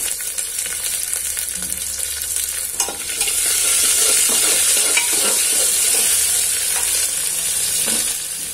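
Onions and green chillies are stir-fried for sambar with a steady, close sizzle, and the frying hiss grows louder partway through as stirring scrapes and shuffles through the pan.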